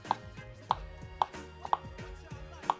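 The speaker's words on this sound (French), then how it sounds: "je vais couper des petits morceaux de beurre" A knife cuts butter into small pieces on a board, giving soft, evenly spaced taps about twice a second, close and quiet with no talking.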